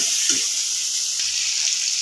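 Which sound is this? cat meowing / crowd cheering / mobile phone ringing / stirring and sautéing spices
stirring and sautéing spices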